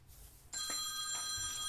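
A phone rings with an incoming spam call, a bright electronic ringtone of sustained high tones that starts abruptly after a moment of quiet and continues steadily, fairly close.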